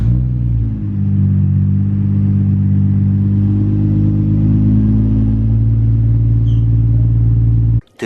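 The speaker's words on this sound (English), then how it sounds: "I'm gonna give you guys a cold start of the exhaust that it has right now" A Nissan GT-R R32 with a Kakimoto exhaust idles loudly and close at high revs on a cold start, a deep steady rumbling exhaust drone that holds, then cuts out abruptly at the end.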